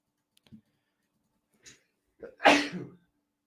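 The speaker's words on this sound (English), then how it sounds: "I didn't want to sneeze on the mic." A single sharp sneeze close to a microphone during a live trading broadcast, preceded by a few faint breaths and small sounds in otherwise quiet surroundings.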